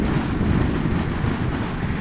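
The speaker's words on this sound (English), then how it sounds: "the wind is distracting me" Wind buffets the microphone during a motorcycle ride, a steady, close rumbling roar that fills the whole short stretch with no other clear sound.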